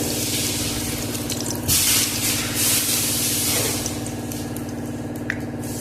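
Steady, close hiss of panch phoron and cumin seeds frying in hot oil, with a few brief louder bursts and faint clinks.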